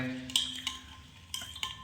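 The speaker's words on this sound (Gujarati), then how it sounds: "ચમચીથી હલાવી નાખવાનું છે" A spoon clinks and scrapes against a metal pot a few times while stirring spiced water for pani puri, with soft swishing of liquid between the taps.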